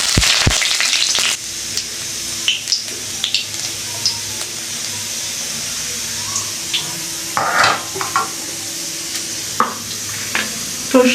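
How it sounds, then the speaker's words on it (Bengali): Nigella seeds hit hot oil in a pan for a vegetarian curry, giving a steady sizzle with a loud initial burst, then repeated light stirring and utensil clinks over the frying hiss. "একটুখানি কালো জিরে দিয়ে দিলাম।"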